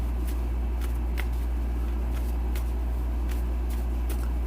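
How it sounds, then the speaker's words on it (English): Statis Pro baseball fast action cards being shuffled by hand: scattered soft, papery ticks and flutters over a steady low electrical hum, close by and fairly quiet, with no talking. "turn them over, and shuffle them."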